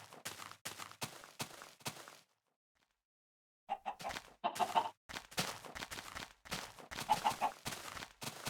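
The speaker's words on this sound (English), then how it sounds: "Chickens." Video game chickens cluck in short bursts with a brief silent gap, followed by more busy clucking and faint chirpy notes.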